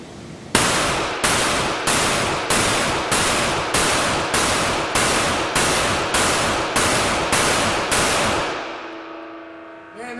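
A Tisas Regent BR9 pistol fires 13 rounds on a shooting range at an even, steady pace, each shot a loud sharp crack with a brief ring, followed by a fading echo and then quiet.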